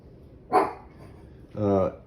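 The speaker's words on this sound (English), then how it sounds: "that's my dog in the background." A dog in the background of a home radio room gives two short barks about a second apart, moderately loud against a quiet backdrop.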